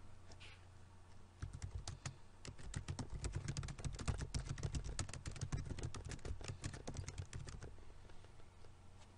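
Rapid, dense clatter of typing on a computer keyboard while entering a service call solution into software, steady and close with a low hum underneath, no voices.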